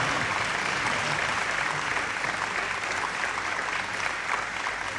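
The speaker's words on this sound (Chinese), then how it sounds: "接下来，让我们有请瑞华集团董事长李雪女士为本次晚宴致辞，掌声有请。" Sustained, dense applause from a seated crowd at a formal banquet, steady and loud throughout with no break.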